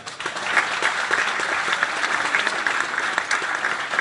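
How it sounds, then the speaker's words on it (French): Warm applause from the audience at a label award evening, a crowd clapping continuously with a bright, close patter that holds steady for a few seconds. "Vous pouvez aussi l'applaudir."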